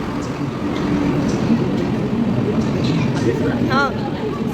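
A moving passenger train rumbles steadily and loudly from inside a carriage, with people chattering over it and a brief high squeal near the end.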